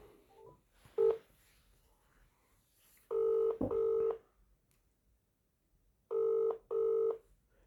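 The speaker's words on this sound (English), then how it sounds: "Ringing up Christopher Browell" Telephone keypad tones beep in short pairs, loud and clear, with faint background noise and a brief tap between them.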